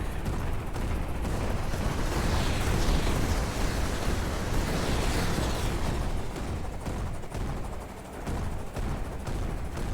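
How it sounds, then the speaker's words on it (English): Continuous heavy barrage of airstrike explosions and gunfire in a military video game, dense and loud throughout with rolling booms and no pauses. "This might just be an airstrike."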